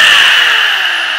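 A loud sander or grinder spins freely before touching steel, giving a high, harsh whine whose pitch slowly drops over about a second, alone with no talk.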